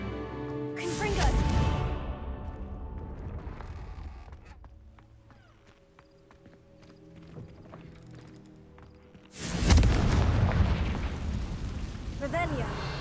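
Two loud fiery blasts from the Confringo spell in the video game Hogwarts Legacy, each a sharp crackling burst that fades over a few seconds, separated by a quieter stretch with faint clicks.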